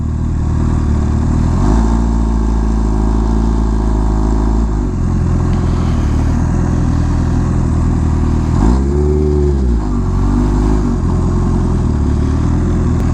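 A Kawasaki Ninja H2R with an auto blipper idles and revs loudly at a supercar rally, its deep engine note holding steady and then surging through a sharp blip partway through, heard up close.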